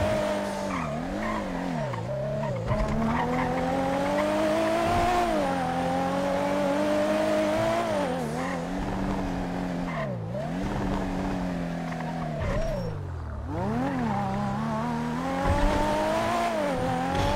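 A tuner car in GTA drives hard, its engine revving up and down through gear changes while tires squeal repeatedly in long, loud skids, continuous and close throughout.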